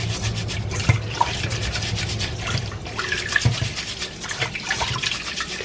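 Hands squeeze and rub sticky rice in a bowl of water, giving close, repeated wet squelches and swishes with occasional louder splashy presses.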